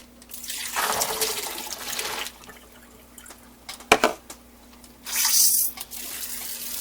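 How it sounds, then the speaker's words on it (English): Tap water runs over soaked baby lima beans in a colander in a sink, in two separate close bursts of splashing with a clatter of handling between them. "I'm going to rinse them well and let them drain"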